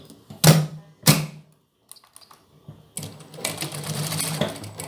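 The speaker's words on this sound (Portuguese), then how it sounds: "Vamos dobrar ela aqui e passar a máquina." A sewing machine stitches fabric for a dress: two short, loud whirring bursts, a quiet pause with small handling noises, then a longer, steadier run of stitching close by.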